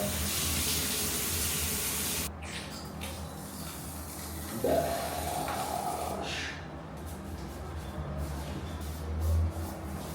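Warm water runs from a tap into a sink, a steady close hiss for a couple of seconds before it stops, followed by quieter splashes and handling sounds.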